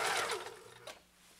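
A 1974 Kenmore 1050 sewing machine stitching through six layers of commercial-grade canvas, a brief fast mechanical whir close up that slows and fades, with no talking.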